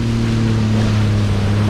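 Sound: jet ski riding on choppy Subic Bay

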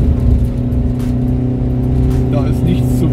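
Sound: car engine at 4000 rpm in second gear, mountain pass descent

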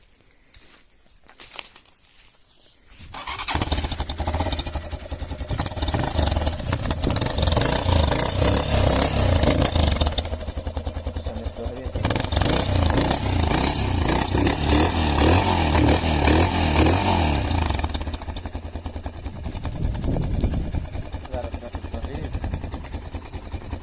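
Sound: motorcycle engine exhaust revving

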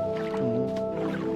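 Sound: water in a video game

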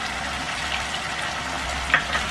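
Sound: ginger and garlic frying in a pan

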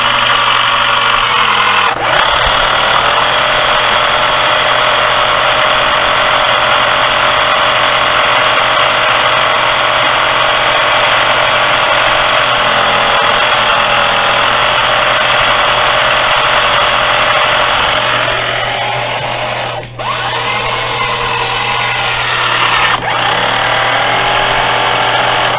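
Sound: remote control car motor spinning at full power

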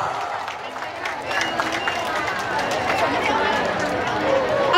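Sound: audience applause welcoming a drum band

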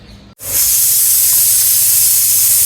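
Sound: pressure cooker hissing steam

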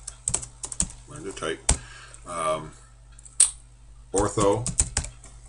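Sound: typing on a computer keyboard

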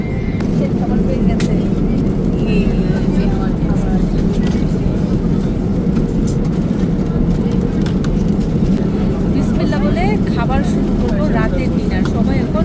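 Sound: airplane cabin noise in flight

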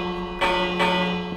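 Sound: bell ringing in the video game Minecraft

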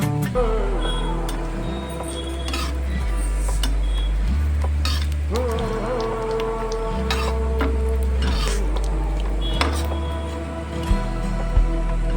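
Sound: roasting dry coconut in oil on a tava

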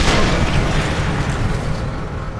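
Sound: explosion of an Opel car in Sniper Elite 3 video game

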